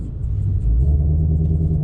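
A 2021 Ford Mustang Shelby GT500 engine rumbles low and steady from inside the car while driving, rising slightly partway through with no talk.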